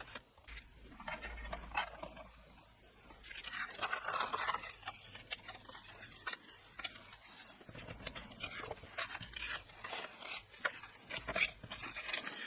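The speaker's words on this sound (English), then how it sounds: "So I'm just trimming down the cardstock." A paper trimmer slices through cardstock while making several Mother's Day cards: repeated rasping, scraping cutting strokes, fairly close and steady, with no talking.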